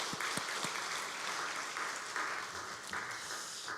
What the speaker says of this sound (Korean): 하나님께 감사하면서 우리 영광의 박수 한번 드리겠습니다